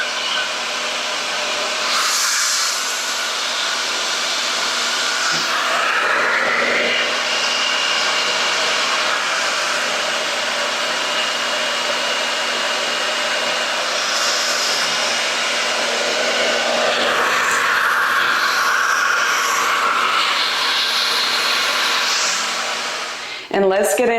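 A hair dryer running on its low setting while drying the roots of natural hair, a steady close whooshing roar that holds nearly unchanged throughout, with shifts in tone as it moves.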